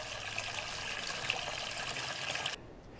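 Water runs steadily from a hose into a hydroponic growing tank, a continuous hissing trickle that stays even for a few seconds before cutting off abruptly near the end.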